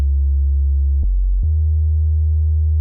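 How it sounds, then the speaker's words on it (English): A steady, pure low sine-wave bass synth tone hums continuously, briefly shifting pitch partway through before settling back into an even, sustained drone. "just have a steady sine wave, or steady sound"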